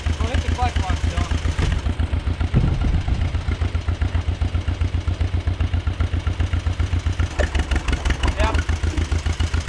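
A farm machine engine used for corn picking runs loudly and steadily with a rapid, even chugging pulse close by, while someone speaks briefly over it.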